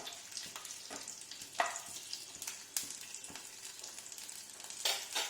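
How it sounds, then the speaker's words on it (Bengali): Food frying in a little oil in a pan, a continuous bright sizzle with occasional crackles and stirring scrapes, close and steady with no talking. "খুব অল্প তেলে ভাজলেই হবে"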